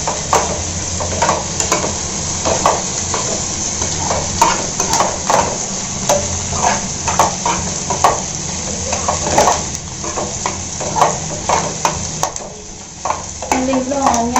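Onions and green chillies fry loudly in hot oil for an egg curry, the close crackling sizzle broken by frequent rhythmic scrapes and clacks of a utensil against the pan.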